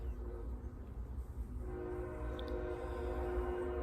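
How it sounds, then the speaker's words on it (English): A train rolls past at a steady rumble, with its horn sounding in sustained tones over the continuous rail noise, fairly distant and moderate in level. "It goes a choo-choo train, probably going north."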